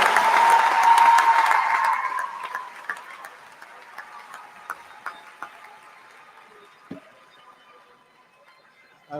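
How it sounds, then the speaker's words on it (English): Audience applause for master's graduates at a spring university commencement ceremony, loud and dense for the first two seconds, then thinning into scattered individual claps that fade out, with a little background noise. "How about another big round of applause for our master's graduates there."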